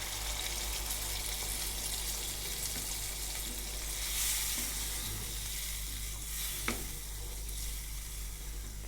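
Goat meat curry sizzles steadily in a pan right after broth water is poured in, a constant close hiss and bubbling with a faint scrape near the end, no talking.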